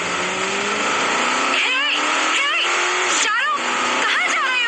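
A car shifts gear and accelerates away from a parking lot, engine revving up in repeated rising sweeps with tire noise, loud and close under a steady roar.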